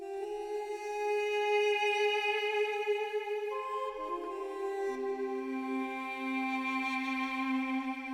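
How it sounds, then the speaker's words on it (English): A duduk, the woodwind instrument, plays a sustained, breathy melody of long held notes that step slowly downward, loud and continuous with no voices. "Now I've got this really cool instrument called a Duduk."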